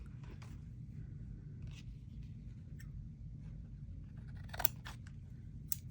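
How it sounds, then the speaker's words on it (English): Scissors snipping paper for a junk journal, a few soft, brief cuts over a steady low background rumble, close and quiet. "Let's snip this little bit off here."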